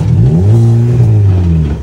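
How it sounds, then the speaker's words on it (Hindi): A Volkswagen Polo 1.6 revs loudly up close, its deep, droning exhaust note rising and falling in pitch through one sustained throttle blip. "साथ में एग्जॉस्ट नोट सुन रहे हैं।"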